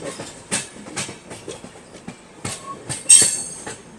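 Howrah Amritsar Mail train rolling on rails into a station, with steady rail noise, rhythmic clicking of wheels over rail joints and a brief high wheel squeal near the end.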